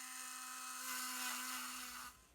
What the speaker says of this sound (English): I'm grinding the same area as the embossed G